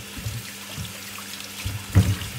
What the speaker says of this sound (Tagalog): kailangan natin hugasan ng ating mangga. Hugasan natin maigi para siguradong